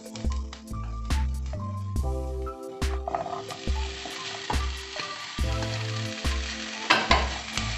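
Potatoes sizzle in hot oil while being stirred, with music playing throughout; the frying crackle grows busier toward the end.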